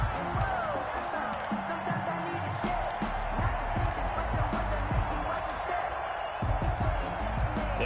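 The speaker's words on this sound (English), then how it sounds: "How about some applause for the defense there?" Stadium crowd cheering and applauding in a PS4 American football video game after a defensive stop, a steady loud roar with scattered thuds throughout and commentary running over it.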